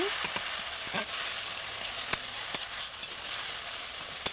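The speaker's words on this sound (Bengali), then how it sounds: "তো সর্ষে বাটাটা দিয়ে আর অল্প ভালো করে নাড়িয়ে চাড়িয়ে নিব।" Mustard paste stirred in a hot frying pan for an okra and small-fish dish: a steady soft sizzle with a few faint spoon scrapes and taps, no talk.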